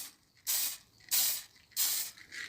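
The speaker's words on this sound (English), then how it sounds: "So we'll spray some of this on like so." Finish sprayed from a can onto a wooden router-cut plaque with a small dog grooming design, three sharp hissing bursts about half a second each, separated by short quiet gaps, close and loud.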